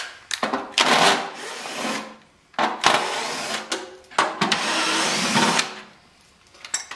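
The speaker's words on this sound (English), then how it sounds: "there's going to be either three or four 3/8 screws holding the blower wheel in. You're going to want to remove them." Three or four 3/8 screws are backed out of the blower wheel of a Lennox G40 furnace. A driver whirs in three loud, close bursts of a second or more each, with short pauses between them.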